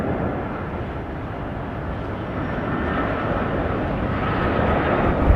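A Finnair airliner on final approach into Heathrow makes a steady, broad jet rumble that swells slightly as it nears, heard alone without talk.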